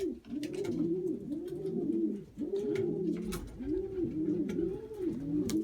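Several pigeons cooing together in overlapping, rolling coos, continuous and close, with faint clicks and rustles in the background.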